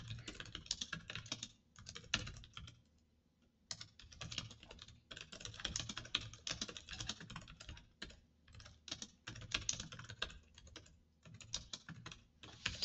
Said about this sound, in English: So while she's typing